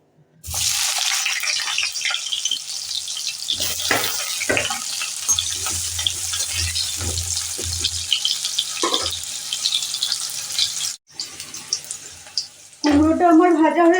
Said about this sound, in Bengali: এরপর আমি কুমড়োটাকে ভাজা করে নেব।